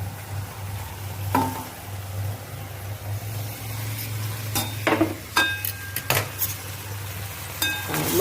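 Country chicken sizzles in hot oil over an onion tempering with a steady, close frying hiss, broken by scraping stirs and occasional metallic clinks of a utensil against the pan.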